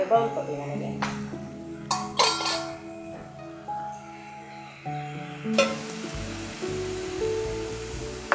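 Paneer frying in a pan gives a light sizzle with utensil clinks and stirring scrapes, close by, while people talk over most of it.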